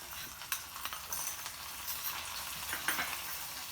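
Cashews and raisins fry in ghee in a pan for jaggery pongal, giving a steady soft sizzle with a few brief clicks of a stirring spoon, close and fairly quiet.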